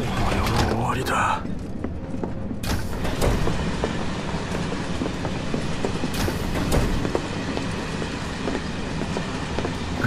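A train rides through Midgar in Final Fantasy VII Remake, a continuous rumbling interior rattle with rhythmic clacks and mechanical clunks, with voices talking over it.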